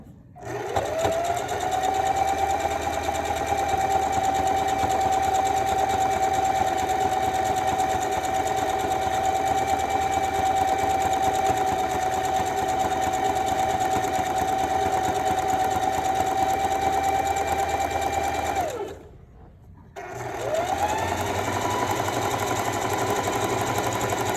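A sewing machine stitches a zigzag stitch with a fast, even mechanical whir close up, running steadily for most of the time, pausing briefly, then starting up again.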